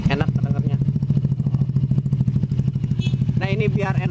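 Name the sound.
Yamaha Jupiter Z 2007 motorcycle engine running with stock exhaust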